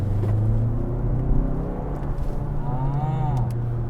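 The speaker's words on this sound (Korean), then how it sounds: "액티브 엔진 사운드를 이번에는." A low, droning active engine sound in a new Kia Sportage (NQ5) rises smoothly in pitch as the car accelerates, steady and fairly loud inside the cabin.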